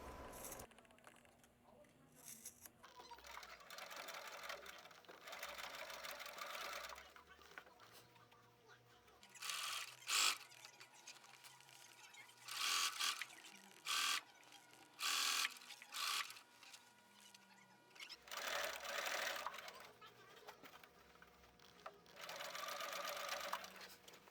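A sewing machine stitches arm covers for a reupholstered wingback chair, running in short whirring bursts of varied length with brief pauses between them, close and fairly loud.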